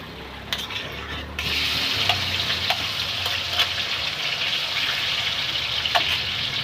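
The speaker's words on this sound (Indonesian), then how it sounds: "Aku mau cuci sawi asin dulu." Tap water gushes steadily over pickled mustard greens being washed in a home kitchen, starting after a brief quiet moment and continuing evenly close by.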